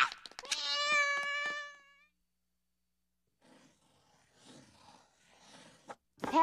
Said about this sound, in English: Oh, nice kitty.